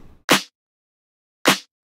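A clap sample used as a layered snare sounds twice, each a crisp, bright slap with a quick tail, roughly a second apart, clean and alone with nothing else playing.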